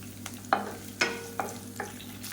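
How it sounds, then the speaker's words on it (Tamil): Chopped onion and crushed garlic saute in a pan for a coriander leaf thokku with a low, constant sizzle. A few sharp stirring scrapes land about every half second. "இது எல்லாமே நல்லா வதங்கட்டும்"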